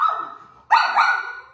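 A house dog barks indoors at people walking by outside: a sharp bark opens the clip, then a louder, close bark follows after a short pause, with no talking.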